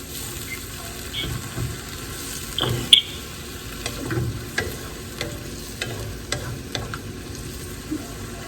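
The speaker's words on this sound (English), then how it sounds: "this is the deglazing of the pan" A hot pan being deglazed sizzles and crackles as liquid hits it, with scraping and stirring sounds and scattered clinks over the steady hiss.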